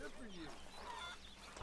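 Chickens in a camp chicken coop in Red Dead Redemption 2 cluck and squawk faintly, mixed with a voice talking over them.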